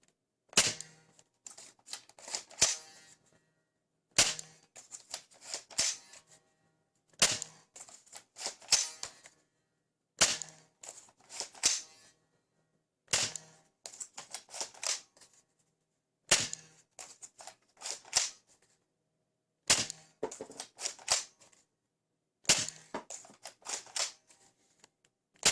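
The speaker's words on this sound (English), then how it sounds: "I'm gonna use the blaster without the barrel for this fire test" An ANDRTI M416 toy blaster, used without its barrel, fires in manual mode in eight separate bursts about three seconds apart, each a sharp snap followed by clattering mechanical clicks.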